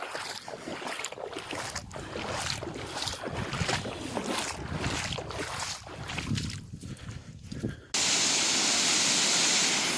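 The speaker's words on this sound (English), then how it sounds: "there's a waterfall here" Phe Phe Falls in the Jaintia Hills produces a steady broadband rushing roar of falling water, mixed with gusty wind buffeting the microphone and growing louder and more constant near the end.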